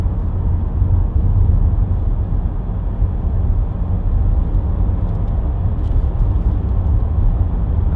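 A 2014 Vauxhall Astra 2.0 CDTi ecoFLEX cruising on a dual carriageway, heard from inside as a steady, loud low road and engine drone with no pauses.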